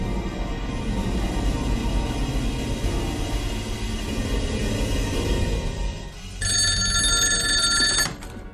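A low rumbling drone runs throughout, then a bright electronic telephone ring sounds near the end for a couple of seconds before cutting off.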